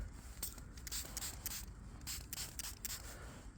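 Spray bursts onto a freshly dug medieval coin at a metal detecting site, several short hissing puffs in quick succession, close and fairly quiet, with rubbing between them and no talk.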